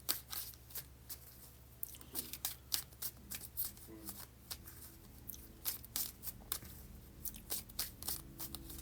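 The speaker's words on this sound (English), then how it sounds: "I don't know why I'm shuffling the wrong deck" A deck of tarot cards being shuffled close up, with repeated crisp riffles and soft card slaps in an uneven rhythm over several seconds, and no talking.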